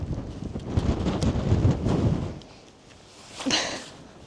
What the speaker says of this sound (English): Well, when I am saying super windy, yeah, I mean something like that.